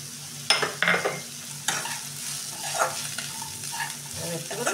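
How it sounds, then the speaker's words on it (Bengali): Vegetable stalks are lightly fried and stirred in a pan, with a soft steady sizzle and several sharp spatula scrapes and clinks against the metal. No one speaks. "ডাঁটাটা একটু হালকা ভেজে নেবো, তাহলে তাতে সেদ্ধ হয়ে যাবে।"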